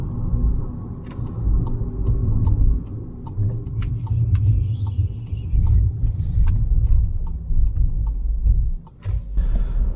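Car driving and turning around in a narrow lane in Liverpool city centre, a steady low engine and road rumble throughout, with occasional light ticking and a brief dip near the end.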